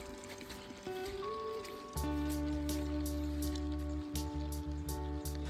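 Monsoon rain falls steadily over village fields below wooded hills, making a dense, even patter under a low, continuous hum.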